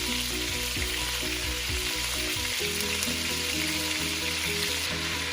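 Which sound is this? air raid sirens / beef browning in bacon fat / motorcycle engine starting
beef browning in bacon fat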